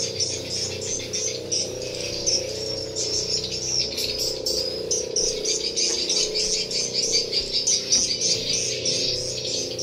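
Inside a bird habitat building, many birds chirp and twitter continuously in a dense, high-pitched chorus over a steady background hum.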